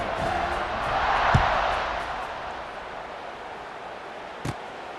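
A stadium crowd cheers in EA Sports College Football 26 as the kickoff approaches, a broad, moderate roar that swells and then eases, with a couple of brief sharp thumps.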